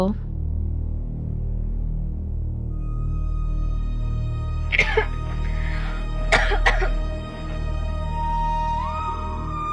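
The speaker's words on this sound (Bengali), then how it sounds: "কারা কাশলো? তুমি কাশছো না?" A few short coughs break out in two small clusters over a low steady hum, close by and fairly clear.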